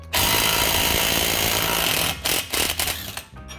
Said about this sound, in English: 32mm socket on there, and the rattle gun makes light work of this.